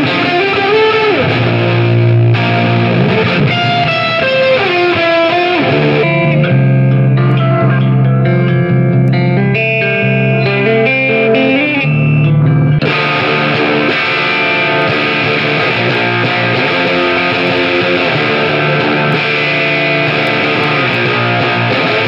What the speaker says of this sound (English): we have the ZVEX Effects Distortron.